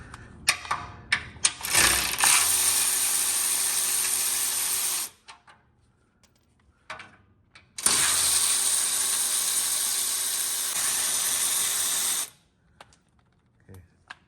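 Bolts come off a Lamborghini Huracan cover with a power tool in two long, loud, steady whirring bursts of about three and four seconds. Scattered clicks and clanks of handling fill the gaps around them.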